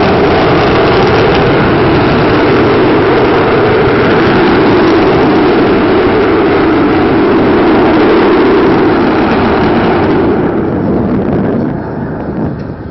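Loud, continuous roar of an Avro Vulcan B.2 bomber's jet engines at an air show, with heavy wind buffeting, holding steady before easing slightly toward the end.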